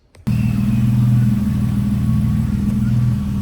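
A Nissan 350Z engine starts and settles into a loud, steady idle with a deep, even rumble heard close up, running alone without any talk after a brief quiet moment at the start.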